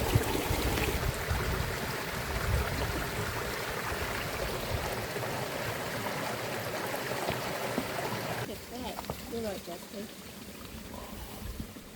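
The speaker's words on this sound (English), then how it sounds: "the creek winding its way down" A valley creek rushes and trickles in a continuous, fairly close wash that eases off toward the end, where faint sounds take over.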